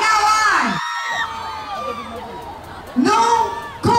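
A grand political rally crowd in Quezon City erupts in loud shouting and cheering, dipping briefly before surging back into a fresh roar of mixed voices, whoops and yells near the end.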